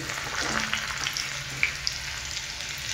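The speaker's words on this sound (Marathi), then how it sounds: "थोडीशी लसूण, अशी लसूण वाजली पाहिजे" Garlic sizzles in hot oil after curry leaves for a pav bhaji base, giving a dense, even frying hiss with small pops and crackles throughout.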